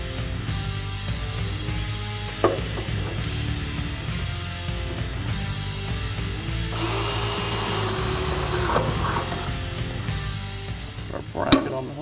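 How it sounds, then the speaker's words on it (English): A power drill bores a hole in a replacement frame rail on a 1965–1966 Mustang, whirring steadily for several seconds with a couple of sharp clicks and a rising pitch midway. "it's a replacement frame rail, so we're going to have to drill a hole"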